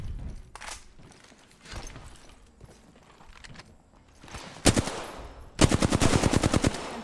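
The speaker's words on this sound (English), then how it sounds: "He has a shotgun and he's sniping with it." Shotgun fire in a fast-paced shooter video game: a few scattered shots, then a sharp blast and a rapid, loud burst of repeated shots near the end.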